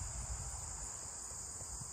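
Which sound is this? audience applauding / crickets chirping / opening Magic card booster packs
crickets chirping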